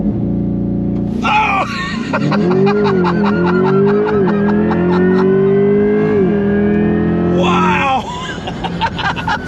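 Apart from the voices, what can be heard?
2024 Chevrolet Corvette E-Ray accelerating hard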